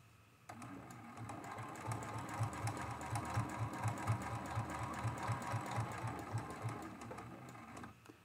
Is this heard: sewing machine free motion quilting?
yes